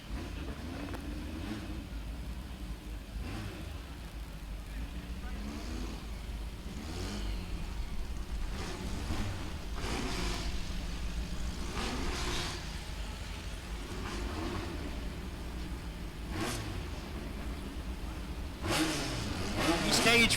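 Volkswagen drag cars at the Mason Dixon staging line rev in repeated short bursts as they inch forward, the engines fairly distant and faint beneath an announcer's ongoing commentary.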